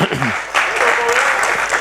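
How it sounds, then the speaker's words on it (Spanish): Audience applause greeting a boat presented during a talk, a dense burst of many hands clapping that swells after a brief dip, with a voice speaking over the start. "Un aplauso al barco de Chanquete, aquí lo tenéis."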